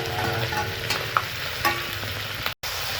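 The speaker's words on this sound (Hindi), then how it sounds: "1/2 किलो मटन को फ्राई कर रहा है अच्छी तरह से" Half a kilo of mutton fries in a pan over a medium flame, an even loud sizzle with a few light stirring clicks and a momentary dropout near the end.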